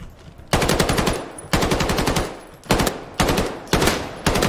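Bursts of automatic gunfire from the video game Battalion 1944, five rapid volleys in a row separated by short pauses, loud and close with no talk over them.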